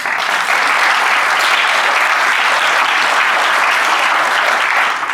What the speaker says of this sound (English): Henry back there deserves a round of applause for that.